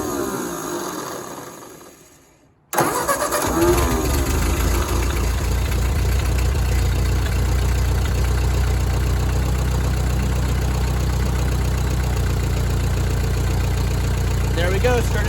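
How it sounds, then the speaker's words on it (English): A Ford 8N tractor engine fades quietly, then suddenly catches and starts, settling into a loud, steady, close idle with a rhythmic low chug for the rest of the clip. "pushing the starter is what engages that starter to start the tractor"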